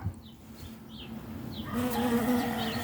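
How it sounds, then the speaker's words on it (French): Small honeybees busy around a hive, a soft steady buzz with brief louder passes of individual bees close by, growing fuller toward the end. "belle vue des petites abeilles au travail."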